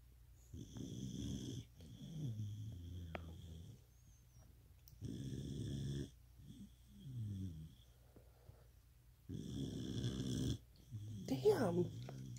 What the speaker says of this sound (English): She snores like a human.